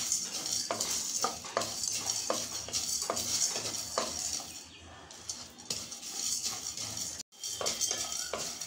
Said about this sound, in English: Now we have to add pepper and methi and roast it for another 2 minutes.